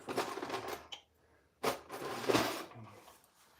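A top drawer is pulled open in a workshop, with a couple of short sliding and rattling bursts separated by a pause, fairly faint and close.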